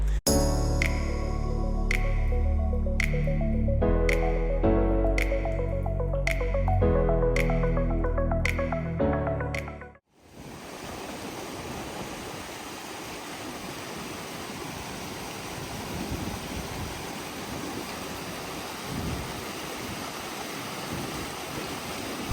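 A mountain stream rushing past a water crossing on the trek to Gaumukh and Tapovan in the Himalayas, a steady, full roar of flowing water heard alone after a stretch of melodic music at the start.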